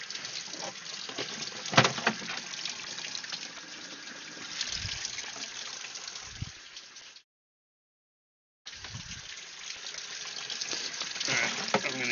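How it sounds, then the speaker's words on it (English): Aquarium tank water pours steadily to rinse a mucky, mulm-filled filter sponge, a continuous close splashing rush that stops briefly, then resumes. "I'm going to use the tank water here that's coming out of there to rinse some of this mucky mulm"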